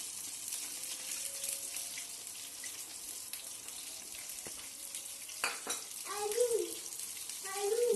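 Oil poured into a pan for turnip curry, a soft steady pouring hiss that swells toward the end, with faint background noise and no clear speech.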